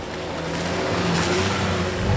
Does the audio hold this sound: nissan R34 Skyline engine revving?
yes